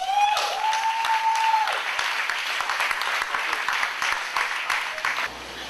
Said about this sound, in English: let's give a round of applause for our marketing maverick